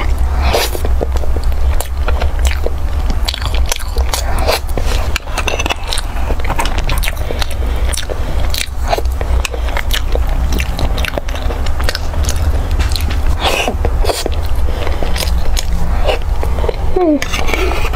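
Close, loud mukbang-style chewing of bubble milk tea flavored food, with steady crunchy bites, scraping and wet mouth sounds running continuously.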